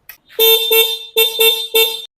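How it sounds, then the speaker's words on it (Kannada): Three loud, bright horn honks close up from a Honda Shine 100 motorcycle, one short toot then a longer blast and two more, sharply separated by silence. "ಒಂದ್ಸಲ ಹಾರನ್ ಮಾಡ್ತೀನಿ ಯಾವ ತರ ಹಾರನ್ ಐತಿ ಅನ್ನೋದನ್ನ ಕೇಳಿಸ್ಕೋರಿ"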